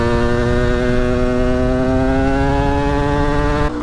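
A Yamaha DTR 125 motorcycle is being ridden, its engine holding a loud, steady whining drone at constant revs with strong harmonics, then easing off abruptly near the end.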